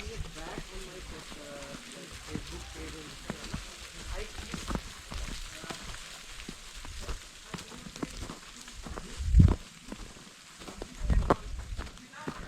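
Rain falls in a snowy forest at Naini Peak in Nainital as soft, scattered patter and drips, fairly faint, with a couple of louder close thumps near the end.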